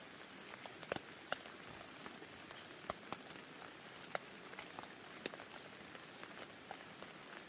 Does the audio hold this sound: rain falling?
yes